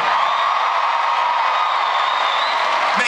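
Cheering and clapping from a large concert crowd at an Oakland, California show fill the air in a steady, loud, unbroken roar during the closing.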